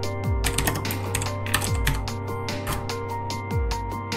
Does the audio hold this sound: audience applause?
no